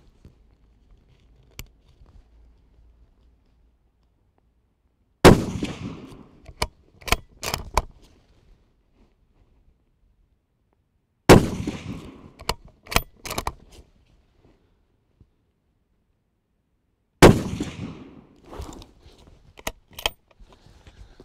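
Three loud, sharp .308 rifle shots from a Sauer 202 thumbhole rifle, several seconds apart and separated by near silence, each followed by a short tail of echoes and rattling.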